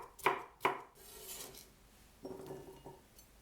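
A knife chops vegetables on a cutting board, likely onion and spring onion, while fried rice is being prepared: two sharp close chops near the start, then a softer run of lighter cuts toward the end.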